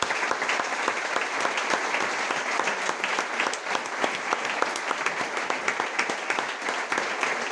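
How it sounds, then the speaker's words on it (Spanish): A seated audience at a talk on grief accompaniment gives warm, steady applause, with many hands clapping densely and evenly throughout. "Por eso yo os quería pedir un aplauso no para mí"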